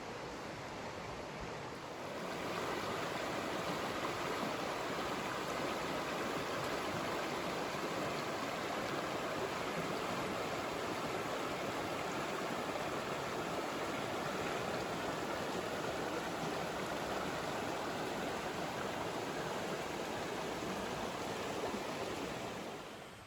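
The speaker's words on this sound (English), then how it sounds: "Oh, the beautiful Deep Creek." Deep Creek in the Great Smoky Mountains rushing past a streamside campsite, a steady, full broadband roar of flowing water that stays loud and even throughout with no voices.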